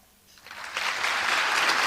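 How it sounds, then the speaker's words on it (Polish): Applause from a parliamentary audience after Mazowiecki's speech swells quickly from quiet to dense, sustained clapping across the hall. "Gdy Mazowiecki zakończył swoje wystąpienie, posypały się brawa"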